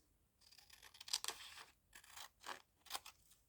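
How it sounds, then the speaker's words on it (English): Scissors snip through old magazine paper in a quiet room, a handful of short, crisp cuts spaced irregularly, close and soft. "I'm just going to snip out roughly the section"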